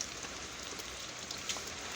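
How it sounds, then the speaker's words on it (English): Steady rain from Hurricane Dorian falls in Garden City, South Carolina, a dense, even hiss of drops with a few sharper spatters, heard alone with no voices. "the rain that we're getting from Hurricane Dorian"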